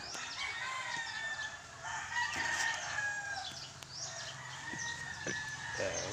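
Fighting cock roosters crow repeatedly at a farm, several drawn-out calls overlapping at moderate distance with soft clucking and farmyard ambience between them.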